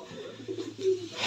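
Soft, low cooing of pigeons, a few murmuring throaty calls close by over a faint steady background hum.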